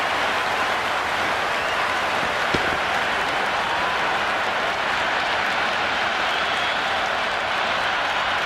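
A cricket crowd in the stands at an Under-19 Asia Cup final between India and Pakistan applauds a catch, a dense sustained wash of clapping and crowd noise filling the whole stretch.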